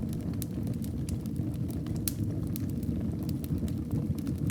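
Wood burns in a fireplace in a snowy Swiss mountain setting, giving a low steady rumble of flame with frequent sharp crackles and pops scattered throughout, soft and close.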